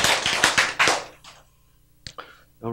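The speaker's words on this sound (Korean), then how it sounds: "여러분, 금방, 왜 박수를 치시죠?" A lecture audience in a hall claps briefly in a burst of quick, close hand claps that fades out, followed by a quiet pause and a few faint taps.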